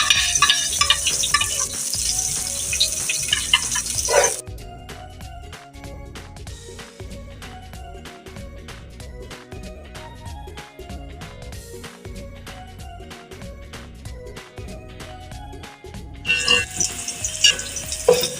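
Onions frying in hot oil with garam masala for chana pulao: a steady loud sizzle with stirring scrapes, briefly settling quieter in the middle before flaring up again, no speech.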